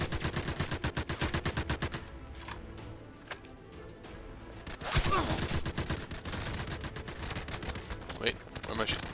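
Rapid automatic gunfire in a video game, coming in dense loud bursts at the start and again after a pause, with scattered single shots and a voice speaking between them.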